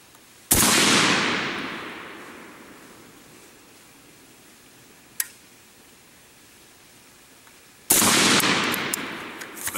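Two loud AK-74 rifle shots in 5.45x39 ring out on a range, each a sharp blast with a long decaying echo, roughly seven seconds apart, with a fainter single crack between them.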